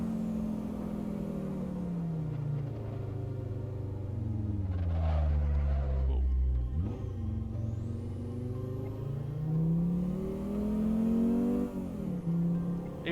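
A saloon car engine in the racing game Assetto Corsa roars loud and close, pitch climbing through gears with a brief drop at a shift, then revving hard again as it accelerates.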